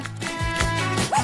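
A dog makes a short run of soft, high whining yips that rise and fall in pitch, close by.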